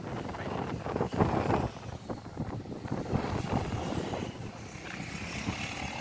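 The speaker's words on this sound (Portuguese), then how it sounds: "Começou a ventar, tá ventando." Wind picks up as a dark, heavy storm approaches over Aparecida de Goiânia, Brazil, making a steady, fluttering roar with gusts that buffet close to the microphone, and no talk.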